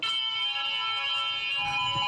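A school fire alarm bell pulled as a prank rings continuously with a bright, steady metallic tone, loud and alone with no voices.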